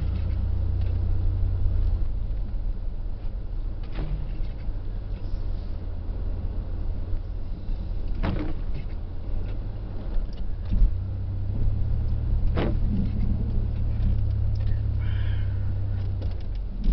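A Dodge Dakota pickup fitted with a snow plow runs steadily while plowing in Maine, a continuous low engine rumble with occasional scraping knocks, close and constant throughout with no talk.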